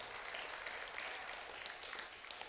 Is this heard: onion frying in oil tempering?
no